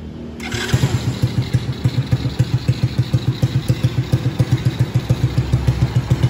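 A motorcycle built from a Honda Astrea Grand engine, a Street Cub style bike, starts up close by and settles into a quick, even put-put idle, loud and alone.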